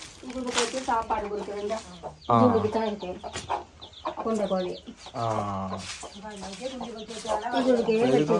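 Chickens cluck softly on and off beneath a person talking nearby.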